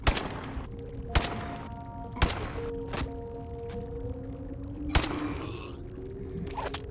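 A futuristic rapid-fire gun in the VR game Bonelab, shots cracking out in irregular bursts, sharp and close, with whirring, whining mechanical tones between them and no speech.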